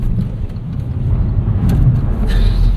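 Engine of a 2022 Hyundai Venue revving and droning through downshifts, a loud, close, low rumble that swells and holds with a brief rev flare near the end, no speech over it.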